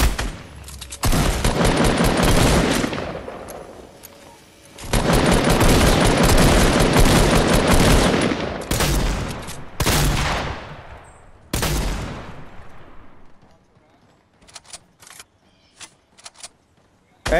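Bursts of rapid gunfire in Fortnite, loud and close, firing in several long volleys separated by short pauses, then tapering into scattered single shots near the end.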